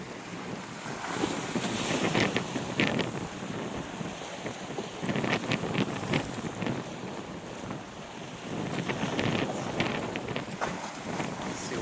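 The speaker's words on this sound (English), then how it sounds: "Big waves coming in." Big storm waves roll in off the ocean on the Canadian coast, with gusty wind buffeting the microphone and repeated surging crashes of surf, moderately loud and continuous.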